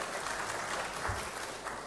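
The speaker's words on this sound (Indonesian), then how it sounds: "Tepuk tangan buat Pak Wali Kota Palu" Audience applause at a national economic forum in Indonesia, a continuous even patter of many hands clapping, moderately distant and uniform throughout.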